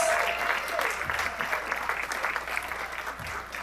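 At a charity awards event, a fairly distant audience claps in a steady, moderate round of applause, with a faint voice briefly underneath near the start.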